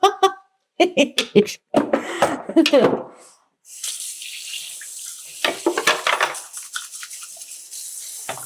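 Running tap water splashes over hands at a sink, a steady broadband rush that starts after a few seconds of talk and continues with some louder splashy bursts; a person talks beforehand.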